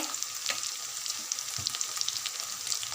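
Green chillies and curry leaves sizzling in hot oil for a potato and broad bean curry, a steady bright crackle with occasional scrapes of a spoon stirring the pan, close and continuous with no voices.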